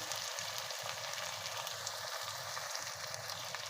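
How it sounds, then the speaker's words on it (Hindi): Minced keema fries in a pan with a steady, close sizzle and crackle that never lets up, and no voices over it. "हमारा कीमा अच्छे से फ्राई हो गया है"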